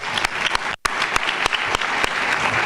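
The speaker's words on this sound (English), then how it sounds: "give one more round of applause to the folks at the front of the stage here" Conference audience applause fills a hall, dense and loud, with a few sharp individual claps standing out and a brief dropout near the start before the clapping resumes.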